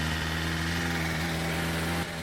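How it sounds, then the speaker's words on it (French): A 2021 BMW M1000RR motorcycle engine, still warm, runs close by with a steady, loud, harmonic drone that holds without clear revs before dropping off at the end. "Attendez, il est encore chaud, je vais vous montrer comment il monte dans les tours."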